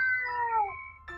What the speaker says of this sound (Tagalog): Nag-aaway yung pusa.